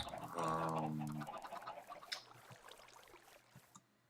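Chickens in a blocky Minecraft-style sandbox game give a loud burst of clucking that fades into quieter scattered clucks, with nobody talking.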